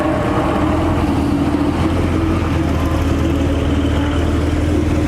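A new Porsche 922 rolling along in traffic, a loud steady engine drone with road noise throughout and no clear pass-by swell.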